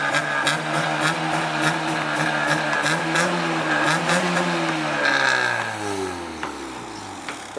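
A Honda Civic engine revving while the car smokes heavily, a steady buzzing idle that rises and falls in pitch with throttle blips, the revs winding down near the end.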